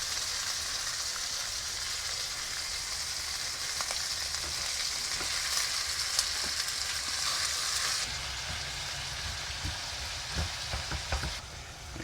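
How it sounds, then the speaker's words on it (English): Minced lamb sizzles steadily in a pan with toasted golden pine nuts, a constant bright frying hiss with occasional stirring scrapes and small crackles, close and continuous with no voices. "You drop the minced lamb."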